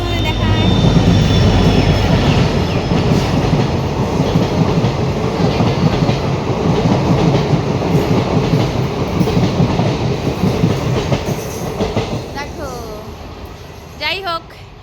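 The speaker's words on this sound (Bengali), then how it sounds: "অনেকক্ষণ দাঁড়ানোর পরে একটা ট্রেন চলে এলো" A train pulls into a station at Siliguri with a loud, steady rumble and rhythmic wheel clatter close by, then a few squealing brake or wheel screeches near the end.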